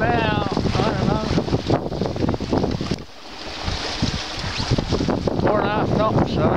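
Strong wind buffets the microphone aboard a sailboat moving under sail with the engine off, a steady rushing roar with water noise beneath and a brief lull in the middle.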